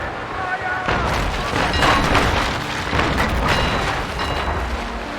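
A naval cannon broadside fires in the sailing-ship video game Naval Action, a heavy rolling boom that swells and sustains for several seconds in a dense wash of rumble, with someone speaking over it.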